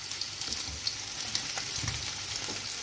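Sole turbans with basil sizzle in a frying pan, with a steady close crackle broken by scattered small pops and a few soft utensil touches.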